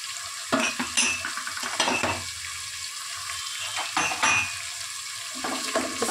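Coriander leaves are stirred into a sizzling pan while making Hyderabadi bagara khana and khorma at home, with close, repeated scraping strokes over a constant frying hiss.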